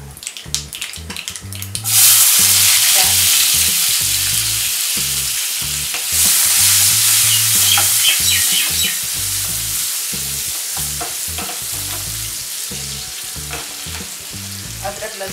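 Mustard seeds and cumin hit hot oil in a pan for an Indian palak dal dish and burst into a loud, steady sizzle that fades slowly, with a rhythmic stirring clatter underneath.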